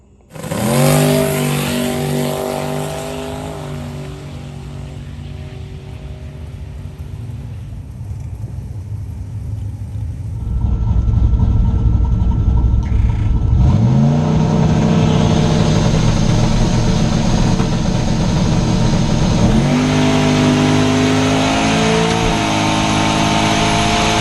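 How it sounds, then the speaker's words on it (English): A turbo LS-swapped Chevrolet S10 pickup makes a drag strip test pass in the left lane: a loud, close engine idles and rumbles, then launches into hard revving with rising pitch sweeps at each gear change, staying loud throughout. "for the first run, we went up for our first test pass in the left lane"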